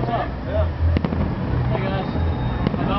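Fourth of July fireworks over Buckhead, Georgia, thump and crackle at a distance in a few sharp bursts, with voices and outdoor background noise throughout.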